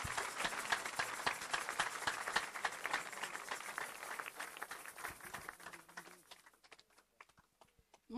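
Congregation at a worship service applauding to acclaim the Lord, dense fast clapping from many hands filling the space, steady and loud, then thinning out and fading away over the last couple of seconds.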